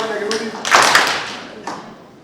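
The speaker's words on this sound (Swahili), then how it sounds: "Tunataka makofi kama kirudi." Audience applause at a launch event in Isiolo: a few scattered claps, then a short burst of clapping that quickly fades, with a voice heard at the start.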